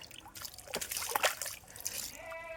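Water trickles and splashes nearby at Aranmula, with a brief splatter as a stone drops in, followed by dribbling and sloshing.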